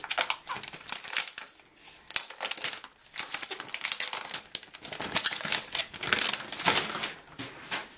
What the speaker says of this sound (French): Donc je le déballe devant vous.